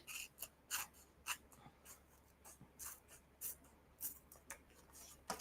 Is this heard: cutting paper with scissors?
yes